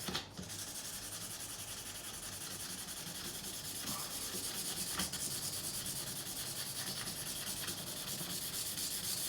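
A guitar body being hand sanded with 400-grit paper held under the fingers, a continuous close scratchy rubbing with a few rhythmic strokes, alone without talk.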